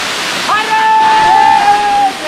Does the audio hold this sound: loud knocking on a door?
no